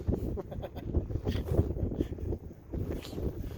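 Mild west wind gusting about 15 to 20 over Oneida Lake in upstate New York on a cold late-fall fishing outing, a steady low rumbling buffet against the microphone with no voices.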